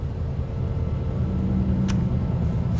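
An idling car engine in the game Cyberpunk 2077, a steady low rumble holding close and even throughout, with no talk over it.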